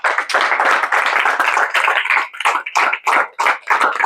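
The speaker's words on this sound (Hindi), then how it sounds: "इनके लिए खड़ा होकर ताली बजा दीजिए आप लोग।" Audience applauding at a JEE Advanced maths class, a dense, steady burst of many hands clapping close by, thinning into a few scattered claps toward the end.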